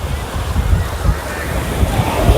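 Sea waves roll and wash at a beach where people are bathing, a loud continuous surf roar with repeated low surges and wind buffeting the microphone.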